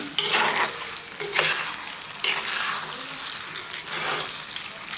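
A rohu fish head and rice dish with ghee spooned over it is stirred in a hot pan, giving repeated scraping strokes over a steady close sizzle of frying.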